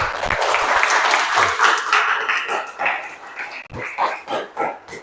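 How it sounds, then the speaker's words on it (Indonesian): A classroom audience claps for a student group after its presentation: dense, steady applause that holds strong, then breaks into a few scattered, looser claps as it tapers off near the end. "kita berikan aplaus untuk kelompok 1"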